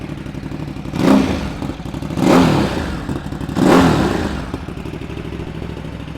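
A 2017 Ducati Supersport S motorcycle idles with a lumpy, steady engine beat, then takes three evenly spaced rising revs that swell and fall back, close and loud with no talking.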